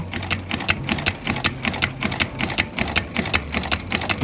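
A sewing machine stitches continuously up close, its needle clattering in a fast, even rhythm over a steady low motor hum, with no voices.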